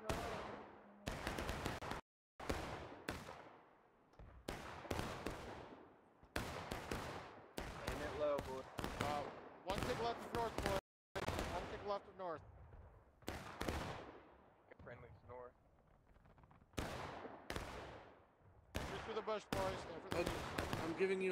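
Musket volleys and scattered rifle shots ring out in a Civil War battle on the East Woods map of War of Rights, dense repeated bursts under shouted team talk.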